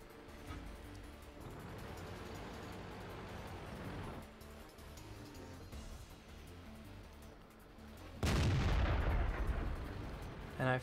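Tank main gun firing in World of Tanks, a heavy booming blast near the end over a low rumbling engine and battlefield ambience, with a faint earlier shot-like thump.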